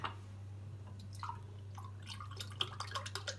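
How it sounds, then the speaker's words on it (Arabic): Milk poured from a cup into cake batter in a home kitchen, heard as faint, soft liquid splashing and dripping over a steady low electrical hum. "زدنا نص كاس لاروب ديال الحليب"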